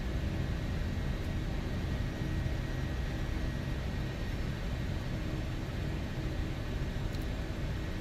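A Gulfstream 550 jet in the X-Plane flight simulator taxis off the runway after landing at a small airport, a steady low engine rumble and broadband hiss holding evenly throughout with no voices.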